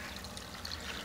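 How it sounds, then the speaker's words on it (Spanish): A small water cascade recirculating water in a tilapia fish tank gives a steady, even splashing trickle, close and continuous, with no voices. "aquí les tenemos una cascadita para que vaya"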